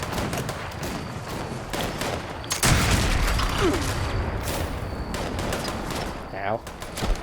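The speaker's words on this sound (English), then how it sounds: "that turret's shooting at them" Automated turret in Fallout 76, at a munitions factory, firing rapid bursts of gunfire amid a dense game soundscape, with a heavy blast near the middle and people talking throughout.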